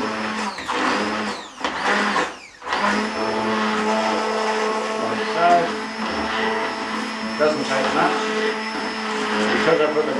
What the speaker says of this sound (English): I give it a blend.